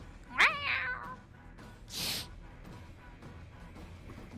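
Human voice imitating a cat: a drawn-out rising meow, then a short breathy hiss, both alone with quiet room noise between.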